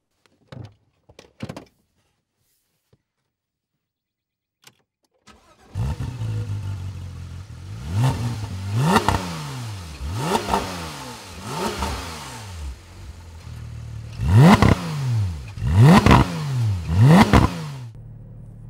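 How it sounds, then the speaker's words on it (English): A Porsche 991 GT3 climbs a hill in Europe, its engine approaching from faint and distant after a few light clicks, then revving hard through repeated rising gear pulls, loudest near the end as it passes close. "this is the new GT3 being driven up a hill somewhere in Europe"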